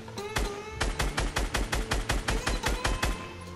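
Rapid automatic gunfire in Fortnite, a fast even burst of about fifteen loud, close shots in steady rhythm with a few quieter reports at the start.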